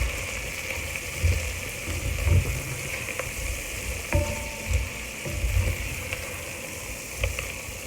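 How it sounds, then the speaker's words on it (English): Charred bacon sizzles steadily in its own rendered grease, a continuous frying crackle with a few soft clinks and stirring bumps along the way. "Charred bacon releases a lot of grease."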